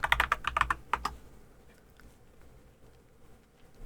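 Close, crisp keystrokes on a Cabbage Dog V3 Creamy Yellow Pro keyboard, a rapid run of about ten clacks in the first second, then faint sparse taps over room hum.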